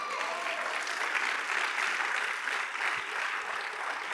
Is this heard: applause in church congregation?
yes